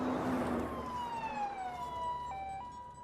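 An ambulance siren wails with a falling, then shifting pitch, fairly faint and distant, passing without any speech.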